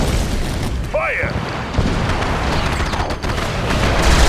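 Torpedo launches and heavy underwater explosions in the Red Alert 2 strategy game, a dense rumbling barrage with a brief rising whoosh near the start, mixed under in-game voice announcements.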